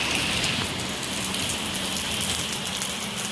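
Heavy rain pours down outdoors in a dense, unbroken hiss that stays loud and even throughout, with no voices.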